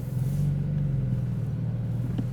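Engine of a new-model car heard from inside while driving, a steady, loud low rumble with a faint rise in pitch and no break.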